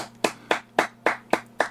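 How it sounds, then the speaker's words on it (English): Applause for a guest's introduction comes as six sharp, evenly spaced claps, close and moderately loud, with a steady low hum underneath. "I've never gotten applause for an intro."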